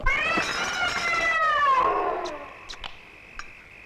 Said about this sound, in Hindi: इस बिल्ली को खाने की टेबल से दूर रखा करो